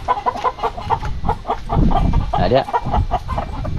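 Chickens and their chicks cluck in a close, busy chorus of short repeated calls, with a brief word spoken among them.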